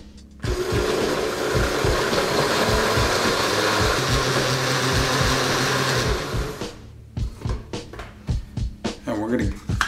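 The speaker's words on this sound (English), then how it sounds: "we're going to put them in this little blender cup" A small blender cup whirs loudly as it grinds ginger, garlic and green chilies into a paste, running steadily for about six seconds before cutting off, followed by someone talking.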